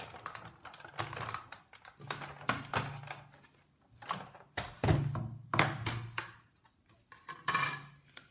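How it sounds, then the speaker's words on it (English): Big Shot die-cutting machine rolling card stock between standard cutting pads for a sympathy card: uneven bursts of clunky cranking and plastic clacks with low rumbling passes, close and fairly quiet, no talk. "I'm going to put on my top standard cutting pad, and then I'm going to run it through the Big Shot"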